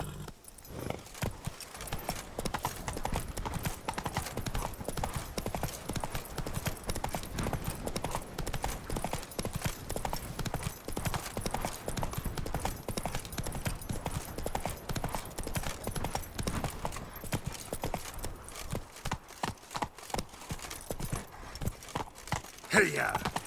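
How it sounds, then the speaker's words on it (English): Hoofbeats of Roach, Geralt's horse, galloping in The Witcher 3: Blood and Wine, a steady rapid clip-clop running throughout over a busy game soundscape, with a voice briefly calling out. "Run, Roach."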